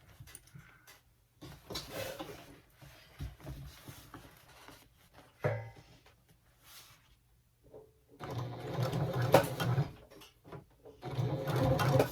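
A sewing machine stitches a seam on a tote bag in short separate bursts, with quiet pauses between runs and a longer, louder run near the end.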